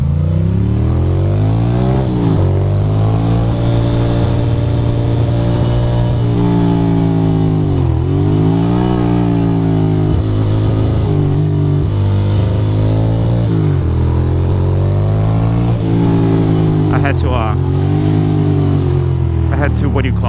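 A motorcycle engine revs and rises repeatedly through a cold city commute in NYC traffic, loud and close throughout the whole stretch, with pitch swells as the throttle opens and eases.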